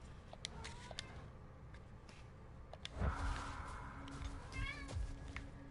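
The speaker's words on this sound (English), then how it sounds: "Hello, very loud cat." A cat in the game God of War Ragnarok lets out several loud, drawn-out meows. They rise and fall over a steady low ambient hum, close to the listener and with no talk.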